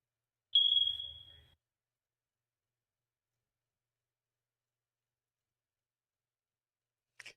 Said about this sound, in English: Is there like a smoke alarm chirp?